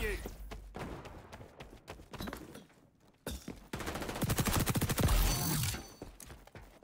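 Gunfire in the shooter XDefiant, scattered single shots early on, then after a brief lull a loud rapid automatic burst of closely spaced rounds lasting a couple of seconds.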